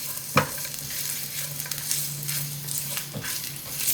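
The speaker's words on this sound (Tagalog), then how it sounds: "maggisa tayo ng sibuyas" Onions sautéing in a pan for lumpiang togue: a steady sizzle and frying hiss with a spatula clack at the start and occasional stirring scrapes, close and alone.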